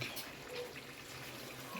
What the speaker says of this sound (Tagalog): lagyan na siya ng tubig.